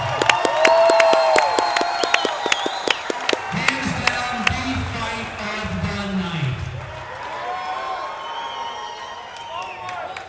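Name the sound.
audience applause after a fight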